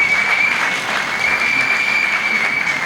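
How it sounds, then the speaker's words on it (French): Audience at a retirement ceremony for a finance company director in Thiès applauding steadily, a dense, even wash of clapping that stays loud throughout with no pauses. "je veux que vous applaudissiez pour lui témoigner toute notre reconnaissance"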